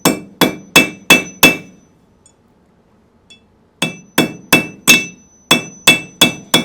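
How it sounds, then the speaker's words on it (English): Sharp, ringing hammer blows on alloyed 22kt gold, struck in two quick rhythmic runs of about five strikes each with a short quiet pause between, close and loud with a bright metallic ring. "I'm going to take the risk and just hammer it."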